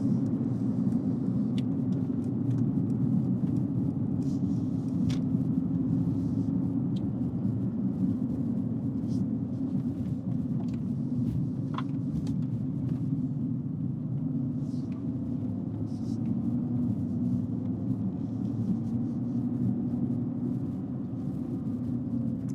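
2018 Mercedes-AMG GT R driving, a steady low engine and road rumble heard from inside the cabin, continuous and fairly loud throughout with a few faint clicks.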